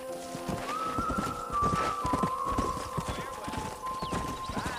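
Horse hooves clopping steadily near a corral in Red Dead Redemption, with a whinny and ambient game sounds underneath someone talking.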